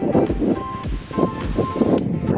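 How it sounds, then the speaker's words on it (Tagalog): Strong gusty wind buffeting the microphone in bursts at the seaside in Lumina Pandi, with a roaring, rumbling rush and waves or surf in the background. "Yan, napakahangin din."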